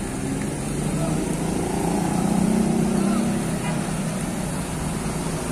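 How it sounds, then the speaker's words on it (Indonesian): Surya Gemilang tour bus passing on a roadside in Ciamis, a continuous low engine rumble that grows slightly louder midway before easing, with traffic noise around. "melintas bus Surya Gemilang."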